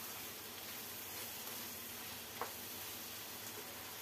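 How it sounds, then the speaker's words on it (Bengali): Chicken frying with tomato ketchup in a pan gives a steady, faint sizzle with a soft stir near the middle and no talk. "টমেটো কেচাপটা দিয়েও আবারও চিকেনের সাথে আরও মিনিট খানেক ভালো করে ভেজে"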